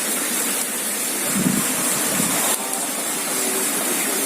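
A rushing stream flows at night in Probolinggo's farmland, a steady, dense broadband wash of water with no breaks, fairly close and continuous throughout.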